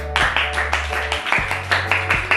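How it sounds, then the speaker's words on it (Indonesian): A short burst of clapping for a classroom group, several quick claps in an uneven rhythm, close and moderately loud. "Give applause to grup Siddiq."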